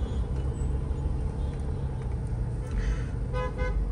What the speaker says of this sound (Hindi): जैसा कि देख सकते हो कैसी ज़्यादा ट्रैफिक है